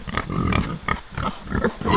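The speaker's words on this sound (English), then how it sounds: "this year's batch of pigs, and they think they're getting a snack, so they're being a little loud" A group of farm pigs grunts and squeals loudly in excited bursts, several animals close by calling over one another in an uneven rhythm as they wait for a snack.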